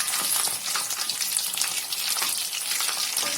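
Tahu aci, tofu coated in tapioca batter, fries in hot oil with a steady, close sizzle and crackle and scattered small pops, with no talking.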